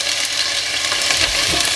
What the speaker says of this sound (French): Je verse les oignons que je fais mijoter.